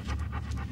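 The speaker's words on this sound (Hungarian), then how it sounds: "Ez egy kutya." A dog pants rapidly and close by, a short burst of breathy rhythmic puffs with no other sound.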